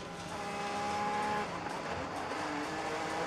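An IndyCar race car at Road America, Newgarden's, lifts off the throttle and brakes: a loud, continuous engine whine that drops in pitch partway through, with no talking.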